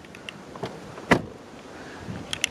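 A door on an Alfa Romeo Giulietta QV shuts with a single solid thud midway, surrounded by faint clicks and quiet handling sounds.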